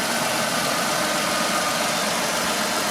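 A car engine idles with a steady, smooth broadband rumble, continuous and fairly loud, with no voices.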